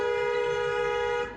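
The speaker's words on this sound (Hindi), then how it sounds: "एक हॉर्न जब भी बजाइए तो ऐसे बजाइए" Car horn sounded by a learner driver, a single steady toot held for just over a second before cutting off, close and clear.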